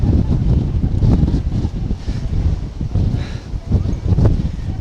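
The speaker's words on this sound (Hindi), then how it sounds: "लगातार भारी बारिश और तेज हवाओं का सिलसिला द्वारका में चल रहा है।" Strong cyclone winds and heavy rain lash the coast at Dwarka, Gujarat, roaring constantly against the microphone in loud, gusting, churning bursts with no pause.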